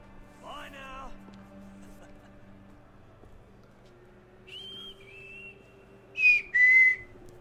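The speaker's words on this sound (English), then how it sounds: "It's whistling." Whistling in the video game Assassin's Creed III, a few sustained tonal whistle notes sliding between pitches near the end, preceded by a brief spoken voice over a quiet hum.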